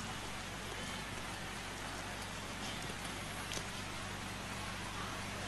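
Rain falls at night over an outdoor religious gathering, a constant dense hiss of drops with a faint low hum beneath, even and unbroken from start to finish, with no one speaking.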